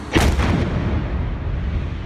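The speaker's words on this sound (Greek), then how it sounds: "Η ισχυρότατη έκρηξη σημειώνεται μπροστά από το κτίριο που στεγάζεται ο Sky και η Καθημερινή." A powerful bomb explosion goes off in front of the SKAI TV and Kathimerini building in the early hours, a single heavy boom with a sharp onset followed by a long, rumbling decay of debris and echo.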